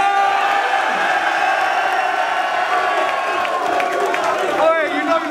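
A live crowd at a Don't Flop rap battle in Leeds roaring, shouting and whooping loudly and continuously, with voices rising over the din near the end.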